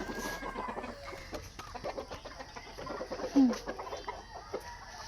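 Chickens cluck and chatter close by in a steady, busy stream, with a louder squawk partway through.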